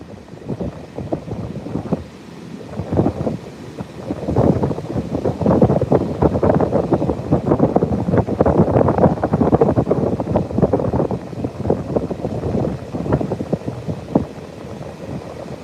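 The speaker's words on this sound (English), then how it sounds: "Got some big waves." Big ocean waves crash and roll steadily onto Padre Island beach in Texas as weather moves in, with loud, continuous surf and gusting wind buffeting the microphone throughout.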